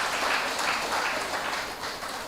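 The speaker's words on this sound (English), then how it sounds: "But I want you to give them a round of applause because they have been flying the Tobago flag." Crowd at a sports club's tenth-anniversary celebration in Tobago breaking into applause, a dense continuous wash of clapping that holds steady throughout.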